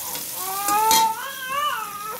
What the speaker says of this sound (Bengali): শুকনো মরিচের সাথে রসুন কুচি, পেঁয়াজ কুচি দিয়ে দিলাম, দিয়ে ভেজে নিচ্ছি